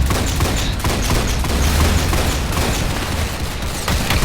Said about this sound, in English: Oh, double barrel shotgun.